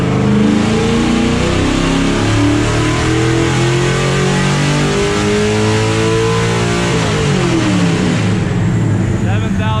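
A nitrous-fed, LS7-powered NASCAR truck accelerates hard, its loud engine revving and climbing steadily in pitch up close, then easing off near the end, with voices faintly under the roar.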